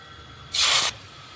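Bay leaves, dried chilli and cumin dropped into hot oil give one sudden loud hiss that holds for about half a second and then cuts off, close by against a quiet kitchen background.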